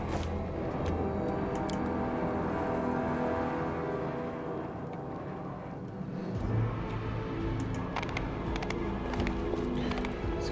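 Horse hooves clip-clopping in the video game Pathfinder: Wrath of the Righteous, a steady run of hoofbeats mixed under game music and ambient clatter, fairly loud throughout.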